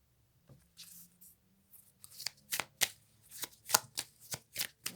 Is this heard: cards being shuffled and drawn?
yes